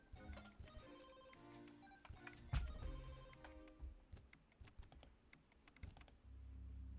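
A mobile phone rings with a melodic ringtone for an unexpected call, fairly quiet and continuous, mixed with light tapping clicks before it cuts off.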